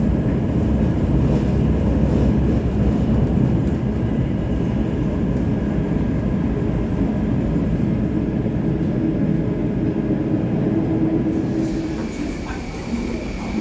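A Singapore MRT train rumbles steadily as it pulls into Chinatown station, a loud continuous rolling hum that eases off toward the end.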